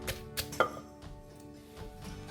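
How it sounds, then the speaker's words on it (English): Shrimp paste for a spicy Thai cucumber salad is pounded in a mortar, heard as a few dull, close thuds and knocks, irregular and fairly quiet, with no talking. "we're going to pound the shrimp paste together"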